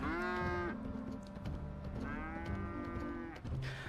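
A cow in the video game GTA 5 with a mod lows twice in long, drawn-out moos, with a shorter call near the end over faint game background sound.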